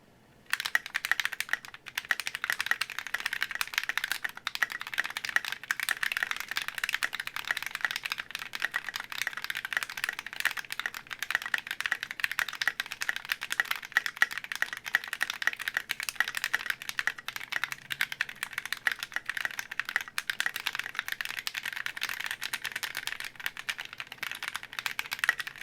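Fast, continuous typing on a Clueboard 66 mechanical keyboard with SA keycaps, a steady stream of crisp clacky keystrokes close up with no voices.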